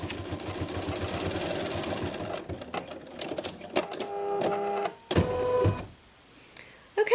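A home embroidery machine stitches small black-thread watermelon seeds on an in-the-hoop coin purse, giving a rapid mechanical whirring chatter that breaks into stop-start bursts and clicks, then goes quiet near the end.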